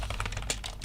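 Quick bursts of keystrokes on a computer keyboard as code is typed, a close, light clatter of several rapid taps in under a second with no voice.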